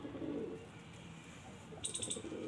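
A Madrasi pigeon coos in low, soft, rolling calls, close and alone, against a faint background hum with a brief higher chirping tone partway through.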